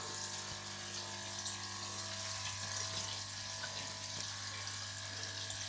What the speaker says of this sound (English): You'll hear the air pump humming for a little while.